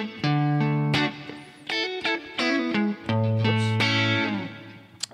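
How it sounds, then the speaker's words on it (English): Electric guitar run through slapback delay and reverb, giving a small-hall sound; sustained harmonic notes and chords ring out with repeated attacks across the whole stretch, loud and alone with no voices. "And then I add reverb on top of it."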